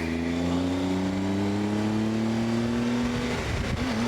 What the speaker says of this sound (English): I didn't see that the car was going.